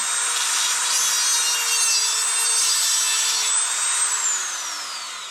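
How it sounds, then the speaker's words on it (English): A Dremel cutoff wheel cuts open a 12 gauge plastic shotgun shell hull, a loud close high-pitched grinding whine that holds steady, then dips in pitch as the wheel bogs and fades out, with no talk. "Since we're going to use a Dremel cutoff wheel, I highly recommend using glasses."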